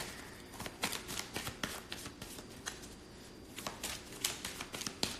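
Tarot cards being shuffled by hand, giving a steady run of soft riffling flicks and snaps across about five seconds, fairly quiet and close, with no talk.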